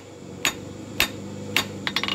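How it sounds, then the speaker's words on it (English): Hammer forging a metal leaf pendant on an anvil: five sharp ringing blows, evenly spaced at first and then a quick pair, each striking loud and close over a faint background hum. "and then just forge it down"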